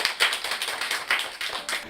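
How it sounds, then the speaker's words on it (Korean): An audience at a Korean reading-club lecture gives brief, fairly faint applause to welcome a speaker, a quick flurry of scattered hand claps without voices. "따뜻한 박수로 맞이해 주시기 바랍니다."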